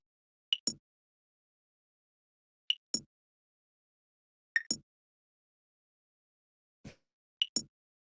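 Small bell-style percussion hits from a deep house track sound alone in sparse pairs, each a bright tonal ping followed closely by a short clicky hit, about four pairs spread across the stretch with silent gaps.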